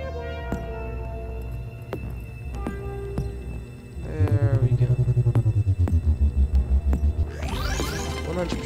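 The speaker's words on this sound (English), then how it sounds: "let's just call them sine wave thingies" Synthesized sine wave tones: steady pure tones and a throbbing low pulsing tone, ending in a rising sweep, alone with no talk.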